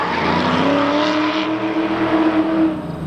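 A drift car corners hard at the ADK RTSdrift racetrack, its engine holding a loud, steady high rev with a sustained harmonic whine for a few seconds and no pause, close and continuous.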